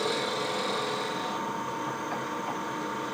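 A drill bit bores about 3/8 inch deep into a piece of wood, giving a steady, close whirring grind that holds at an even level for the whole stretch.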